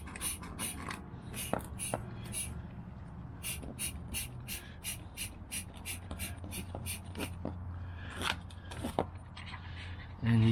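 A hand-operated vacuum brake bleeder works on a Jeep JL, drawing brake fluid through the line with a quick run of sharp ratcheting clicks and squeaks over a low mechanical hum that steadies in the second half.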